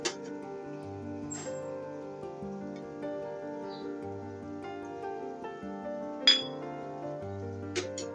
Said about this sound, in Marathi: पातेले गरम करत ठेवले.